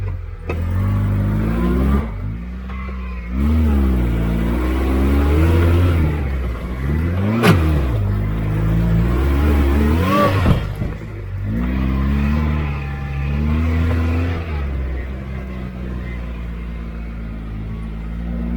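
A homemade 4x4 off-road buggy engine revs repeatedly, rising and falling in surges over a steady low drone, loud and close throughout with no talk.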